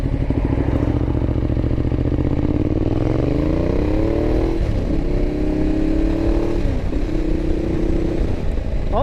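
A 2012 Ducati Diavel's L-twin engine thrums steadily while riding, then revs rise through gear changes with short dips between shifts, loud and close throughout.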